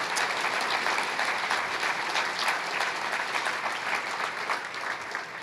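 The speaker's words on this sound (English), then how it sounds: "let's have one more round of applause for all of our award winners" Sustained applause from an audience at a senior academic awards night honoring the award winners, a dense, even wash of clapping throughout.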